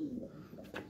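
A pigeon coos once, soft and low, a short throaty burble heard up close and fairly quiet.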